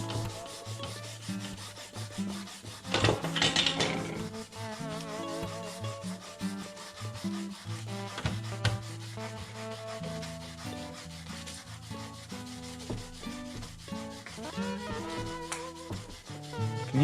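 Sandpaper rubbing over a small model Jeep Cherokee body, a steady scratchy back-and-forth, close and moderately quiet, with a sharper burst of scraping early on and faint background music.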